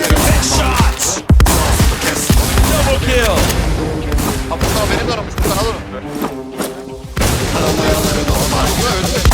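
Gunfire in the PvP shooter game Ati242, dense bursts of shots and impacts packed over a loud music track with rap vocals throughout.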